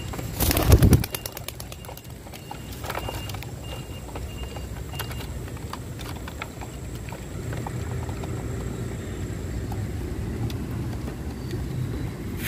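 Flock of pigeons at a loft during racing-pigeon self-training takes off with a loud burst of flapping wings, then steady cooing and ambient outdoor noise continue for several seconds.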